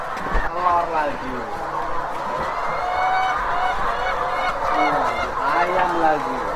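Dense poultry-farm flock calling continuously at close range, a loud overlapping mass of clucks and honk-like squawks with no pauses, while people speak briefly underneath.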